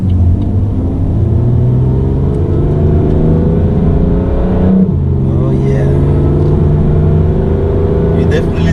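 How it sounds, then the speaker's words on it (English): A BMW M3 in automatic mode revs hard, its exhaust building in a rising, continuous roar that dips briefly mid-way before climbing again, loud and close, with a voice speaking over it. "Now you can hear a more pronounced exhaust."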